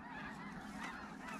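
Geese honk during a duck and goose hunt, a dense chorus of calls blending into a continuous wash of sound outdoors with no one speaking.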